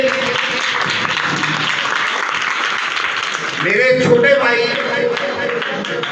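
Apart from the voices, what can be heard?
audience applause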